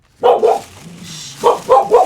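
Dogs bark loudly and close by: two quick barks open, a lower rumble follows, then three more barks come in a rapid burst.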